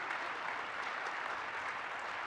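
A conference audience at an opening session claps steadily and densely, welcoming a young guest named Cash onstage, with the applause filling the room evenly throughout and no voices standing out.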